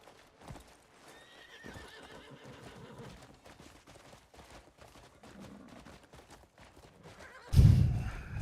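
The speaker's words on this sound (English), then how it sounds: "The horse doesn't sound heavy" A horse in a video game trots with steady clip-clop hoofbeats, then lets out a loud, sudden neigh near the end.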